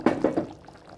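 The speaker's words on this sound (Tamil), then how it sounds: "நல்லா கொதி வந்துடுச்சு" Chicken gravy boils in a pan, giving three quick, soft bubbling pops in close succession. A faint, quiet simmer trails after them.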